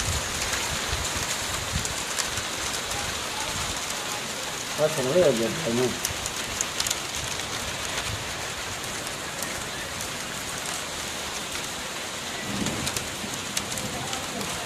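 Unseasonal out-of-season rain falls steadily as a dense, even hiss throughout, with a brief louder patch of nearby drips or movement midway and a faint voice in the background.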